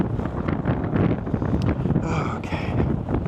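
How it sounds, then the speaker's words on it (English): Strong wind on the Las Vegas Strip buffets a handheld microphone, making a loud, continuous rumbling roar with gusty surges throughout. "It's got so windy."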